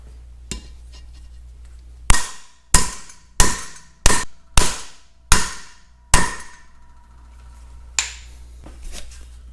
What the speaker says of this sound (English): Then we can take this outer race, drive it right down in on top of it.